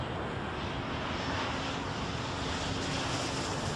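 Jet airliner landing in the airport-control game Airport Madness World Edition, a steady engine roar and rush of air that holds at even loudness throughout, with no one talking.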